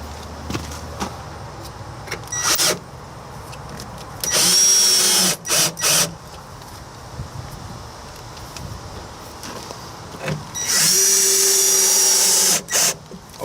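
A power drill drives screws to mount a tankless water heater in a travel trailer, firing in several short, loud whirring bursts with quiet handling sounds between them.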